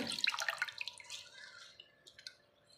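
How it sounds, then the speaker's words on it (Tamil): Dried red chillies being washed in water in a home kitchen, quiet splashing and dripping with a brief flurry at the start, then softer trickles fading out. "தண்ணியிலேயே இந்த காஞ்ச மிளகாவையும் நான் கழுவி எடுத்துக்கிறேங்க"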